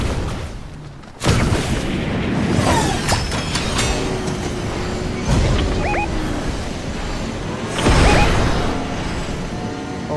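Gunfire and explosions in the Fortnite video game come in loud, close bursts, with a sudden heavy blast, rumbling booms and scattered sharp shots over a continuous noisy game soundscape.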